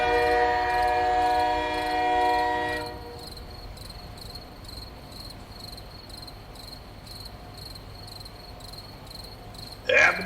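A train rumbles steadily along, a low continuous roar under a sustained tonal horn-like drone at first, settling into a softer running hum in an eerie night setting, ending with a sudden louder burst.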